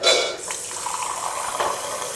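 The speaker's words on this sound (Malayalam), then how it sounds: "ഇതിലേക്ക് ഇനി വെള്ളം ചേർക്കാം." Water poured into a pan of chilli gobi gravy, a brief splashing gush that settles into a running, filling sound, close and alone with no voices.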